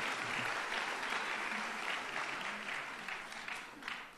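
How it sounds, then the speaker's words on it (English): An audience at a high school graduation applauds steadily in a hall, dense clapping that holds for several seconds before slowly thinning. "One more time, round of applause for Samantha."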